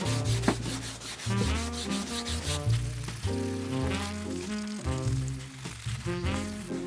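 Steady rubbing strokes across the painted surface of a leather shoe sole, an even scuffing texture partly masked by background music throughout.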